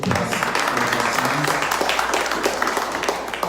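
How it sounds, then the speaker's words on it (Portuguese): An audience at a training seminar breaks into applause, a thick continuous wash of many people clapping for a few seconds, with a low steady hum running beneath it. "Uma salva de palmas para o seu Brito"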